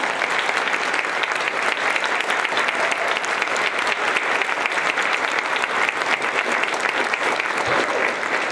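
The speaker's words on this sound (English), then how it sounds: "I'd like to give a big round of applause to Garry Gackstatter" Sustained audience applause at a university band and orchestra concert, a loud, dense and even clatter of many hands clapping continuously from start to finish.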